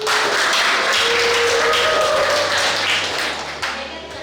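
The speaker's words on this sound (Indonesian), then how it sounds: "Mari kita berikan tepuk tangan yang meriah untuk ketiga kandidat." A school audience applauds three student council candidates with steady clapping that fades slightly toward the end.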